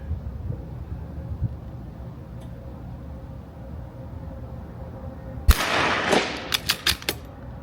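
Ruger RPR rifle firing .22 rimfire rounds, Tac-22 or CCI Standard, outdoors at targets: after a quiet stretch a sharp crack lands, then several more quick snapping shots follow at uneven intervals, fairly close.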